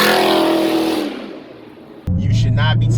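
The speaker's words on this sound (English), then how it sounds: "no aggressive throttling, and mainly from a dead stop, also known as launching this car" A 2020 Dodge Charger Daytona Hellcat Widebody engine roars loudly as it launches from a dead stop, then the note falls away over a second. A sudden loud deep engine drone cuts back in.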